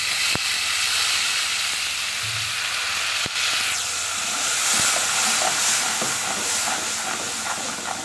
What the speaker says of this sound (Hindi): अब 1 चम्मच हम इसमें वाटर डाल देंगे।